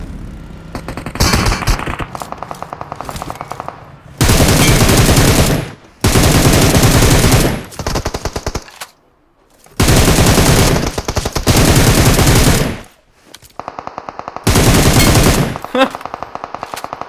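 Automatic weapon fire in a PUBG Mobile solo-versus-squad match, loud and close, arriving as long sustained bursts of rapid shots separated by brief pauses, with quieter single-shot stretches and clicks in between.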